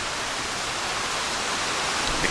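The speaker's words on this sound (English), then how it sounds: "The creek and the leaves falling." A Pennsylvania creek flows steadily, a dense even rush of water with no breaks and no voices, close and fairly loud throughout.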